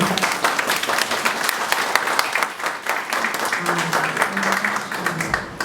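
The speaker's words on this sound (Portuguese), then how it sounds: "uma salva de palmas para a Márcia" An audience at a call-centre staff event gives a sustained round of applause for a colleague, with thick, continuous clapping throughout.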